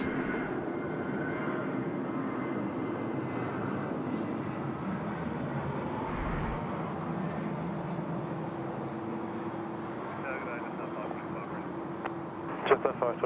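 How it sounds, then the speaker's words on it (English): A Boeing 737 rolls for takeoff on runway 16 right at Sydney Airport at night, a loud continuous engine roar heard from a distance, with radio-style talk over it. "He's at 737 now, rolling 16 right."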